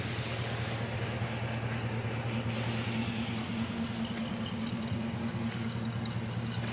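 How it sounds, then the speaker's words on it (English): A 1965 Chevelle Malibu engine idles steadily and quietly, a low, even hum with a soft, constant rumble and no talking. "Listen to the way it idles, just so nice and quiet."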